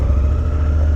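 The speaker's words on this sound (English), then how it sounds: "It seems like it gave itself a little bit of juice as I let the clutch out" A 2019 Honda Africa Twin motorcycle engine runs with a low, steady throb and a slight rise in revs as the clutch is let out, close and loud for a brief moment.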